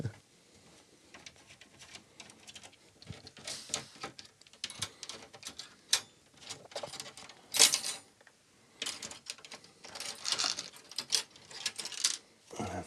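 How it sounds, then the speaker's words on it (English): Torx screws being backed out of an Amiga 500 case, giving scattered small metallic clicks, taps and rattles of screws and a driver, close by and fairly quiet, with no talking. "So this is screwed down with some Torx screws, so we have to remove those again."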